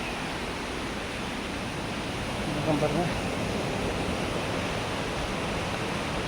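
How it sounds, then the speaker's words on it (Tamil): Steady broadband rush of water flowing beneath a bridge at Thirukkurungudi Thirumalai Nambi temple, continuous and fairly close, with someone speaking briefly over it. "தண்ணி எப்படி வருது பாருங்கள்"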